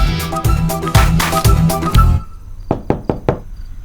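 Knuckles rap on a residential apartment door in a housing society: a fast flurry of loud, close knocks, then a short pause and four sharper, separate knocks, with no talking.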